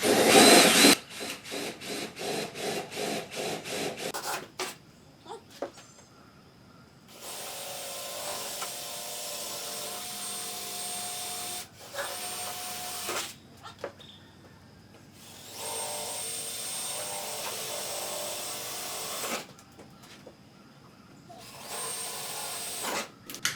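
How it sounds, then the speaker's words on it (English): A power drill runs in several long bursts with short pauses between, whining at steady pitch as it bores holes in the corners of a mobile home bathroom window opening, close and loud. "So first, I'm going to drill holes on the corners."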